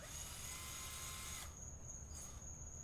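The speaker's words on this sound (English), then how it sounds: "you drill a hole," A steady, fairly quiet mechanical whine of a drill running continuously, with a high-pitched tone and a brief change in pitch partway through.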